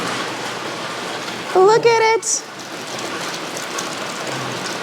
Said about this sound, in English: And that's how fast it rains out here.